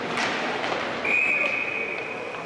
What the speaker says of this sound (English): We got a whistle